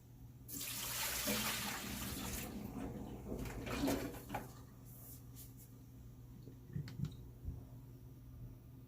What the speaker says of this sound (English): Pour some water over the rice in your new container